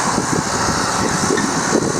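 A farm tractor's engine running steadily and loudly close by, a continuous broadband rumble with no breaks and no voices.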